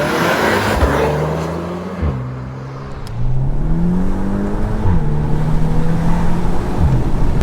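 A 300 hp VW T-Roc R pulls hard, its deep engine note rising through the revs, dipping at a gear change and climbing again, loud and steady from inside the car.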